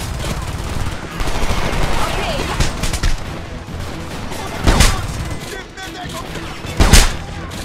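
Automatic gunfire bursts steadily through a firefight in the video game Homefront, with two louder, nearer shots standing out near the end; a voice talks briefly over the shooting.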